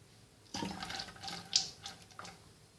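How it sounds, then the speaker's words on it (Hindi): White vinegar poured into a cup of hot water, heated in a microwave, for cleaning a fridge; a short splashy liquid pour with a few gurgling bursts, close and fairly loud. "इसके साथ सिरका डाल दिया मैंने।"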